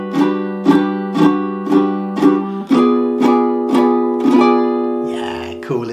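Fingerstyle ukulele playing a jazz ballad: a steady series of about ten even chord strums, each ringing briefly, closing with a softer, busier flourish, close and clear with no talking.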